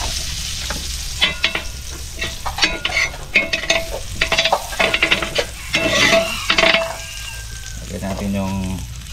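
Butter sizzling in a hot frying pan while shellfish are cooked, a steady crackling hiss with scraping and clinking of a utensil against the pan, occasional voices talking over it.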